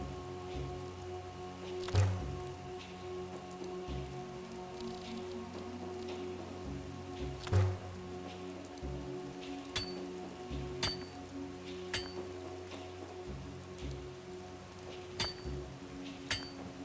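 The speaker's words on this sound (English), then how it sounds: "If only it'd rain when we don't have to go out." Steady rain patters in the Skyrim video game, dense and even throughout, with a few brief clinks and thuds over the constant wash.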